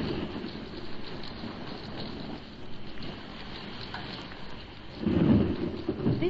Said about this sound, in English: This is a terrible storm